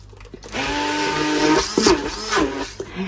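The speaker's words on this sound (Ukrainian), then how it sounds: "Тож, перемішую і показую, що далі роблю." Homemade cheese spread whirring in an electric blender or mixer, a steady motor drone with rising and falling pitch as the load shifts, starting after a brief pause.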